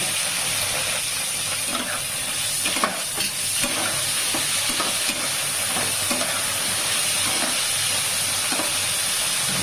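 Okra hitting hot oil in a pan gives a steady, loud sizzling hiss that fills the whole stretch, with occasional soft stirring knocks and no voices.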